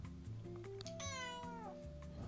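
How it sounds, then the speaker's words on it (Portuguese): A pet cat gives one drawn-out meow with a falling pitch, preceded by a few softer chirps and trills, fairly close in a quiet indoor room. "Meu gatinho."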